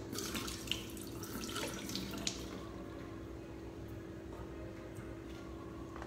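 Liquid draining off diced apples soaked in lemon juice in a kitchen, a steady faint trickle and pour of water that runs continuously with a couple of small splashy drips.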